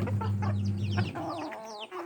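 A small white fancy hen clucks close by in a series of quick, rising calls with a low steady hum behind, heard alone with no talking.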